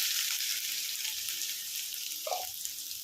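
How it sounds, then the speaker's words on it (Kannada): Onion sizzling in hot oil in a pan, tempering with mustard seeds for an ivy gourd stir-fry: a steady, close, even frying hiss with no talk, and a brief clink near the end. "ಅದೇ ಬಾಣಲೆಯಲ್ಲಿ ಪಲ್ಯಕ್ಕೆ ಒಗ್ಗರಣೆ ಮಾಡ್ಕೊಳ್ಳೋಣ."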